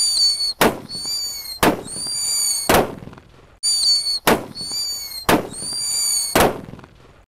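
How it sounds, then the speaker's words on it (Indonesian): Four jumbo paper-wrapped firecrackers set off together outdoors, each letting out a loud, sharp blast in an irregular sequence, with a high hissing whine running between the bangs. "Sudah menyala guys. 4 sekaligus."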